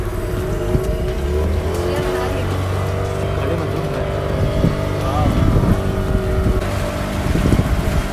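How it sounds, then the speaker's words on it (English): Boat engine on Pykara lake rumbles steadily nearby as it starts and settles into a continuous drone, with wind and faint people talking over it. "here our boat starts with the typical sound that you can hear right now"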